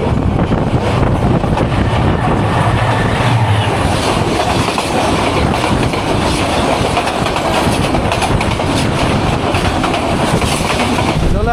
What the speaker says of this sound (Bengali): আলো দেখা যাচ্ছে, ট্রেন আসছে।